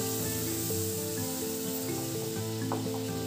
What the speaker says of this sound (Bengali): তাপটাকে বাড়িয়ে দিয়ে মশলাটা 1-2 মিনিট ভালো করে কষিয়ে নেব